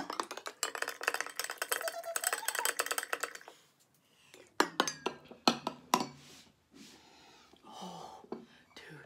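A spoon stirs a soy sauce jerky marinade for Asian-style homemade beef jerky, making quick clinking and scraping strokes against the container. The rapid burst of stirring is followed by a pause, then scattered knocks and clatter.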